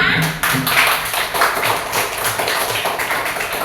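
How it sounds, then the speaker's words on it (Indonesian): A group of primary school children in a classroom clapping their hands together, fast and somewhat uneven, with a few faint voices mixed in. "beri tepuk tangan untuk kalian semua."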